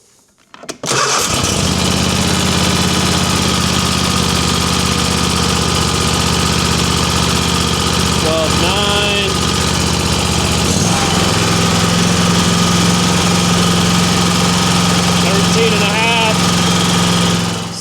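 A riding lawn mower engine under maintenance cranks and catches, then runs at a loud, steady idle that drops slightly in pitch partway through, close by with no talk over it.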